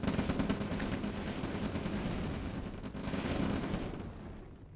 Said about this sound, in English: All of his medium tanks are getting one-shotted by the density of rockets here.